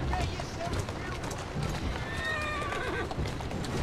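A horse in Assassin's Creed Syndicate gallops with rapid clip-clop hoofbeats and lets out whinnies, heard under a man's speech in a busy game soundscape.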